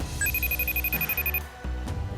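A telephone rings with a repeated electronic trill, calling a skier as part of an X Games gold medal presentation. The tone pulses steadily for about a second and then stops.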